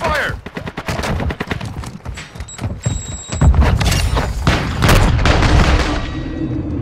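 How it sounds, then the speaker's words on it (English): Dense gunfire in Call of Duty: Modern Warfare II multiplayer, loud and continuous, with rapid bursts and heavy booming shots layered over each other in a hectic firefight. "I'm taking fire!"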